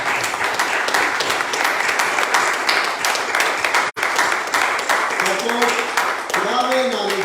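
A congregation at a Sunday church service claps together in a dense, steady round of applause, which breaks off briefly before a voice begins to talk over it near the end.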